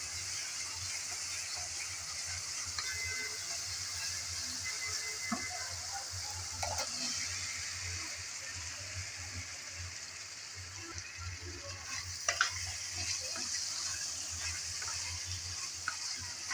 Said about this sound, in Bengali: আলু দিয়ে ভালোভাবে কষিয়ে নিতে হবে নেড়েচেড়ে।